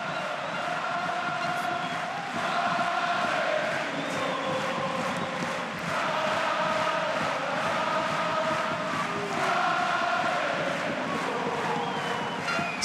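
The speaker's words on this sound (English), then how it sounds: "that has the home crowd singing at the top of their lungs now" At a Top 14 rugby match between Toulon and Stade Francais, the home crowd in the stadium roars and sings en masse, a broad, distant swell of voices that rises and falls in waves.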